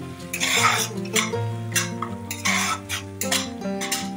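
A spoon scrapes and clinks against a pan while ginger garlic paste is stirred into fried onions, with irregular metallic knocks and scraping strokes, close and fairly loud.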